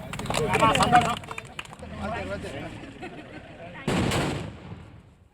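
Rapid crackling bursts of firecrackers going off outdoors at a village welcome celebration, loud and dense at first, fading, then a second sharp volley near the end amid crowd noise.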